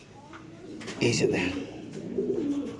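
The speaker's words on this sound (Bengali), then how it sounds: "এগুলো হচ্ছে কবুতর ভাই" Pigeons at a pigeon farm keeping Spanish and racer breeds coo softly in a few low, throaty murmurs nearby while someone talks over them.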